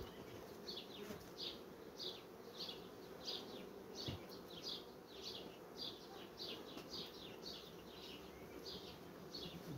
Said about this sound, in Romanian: Vedeți, albine este destul de multe, e undeva pe 10 rame.